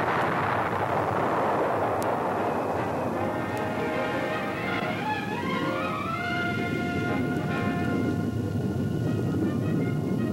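A B-58 Hustler supersonic bomber racing over the Southern California desert makes a loud, sustained, rumbling roar that swells with a rising, sweeping whine and continues unbroken throughout, with no voices.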